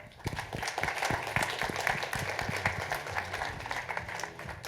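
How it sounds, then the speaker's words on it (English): Audience applause for a panel at a Spur The Future event rolls on steadily for several seconds, even and moderately loud, with a few individual claps standing out. "Let's give a round of applause for Krystyna and her panel"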